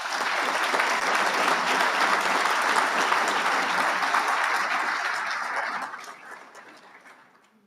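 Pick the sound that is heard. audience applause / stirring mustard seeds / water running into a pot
audience applause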